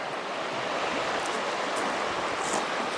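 Continuous rushing water of the East Fork River current tumbling over rocks where the channel narrows, a dense, steady hiss without pauses, close by and fairly loud.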